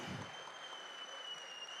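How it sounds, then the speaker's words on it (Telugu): Brief, soft applause from a distant crowd at a film pre-release event, a light patter of clapping fading over under two seconds. "ఒక్కసారి చప్పట్లు"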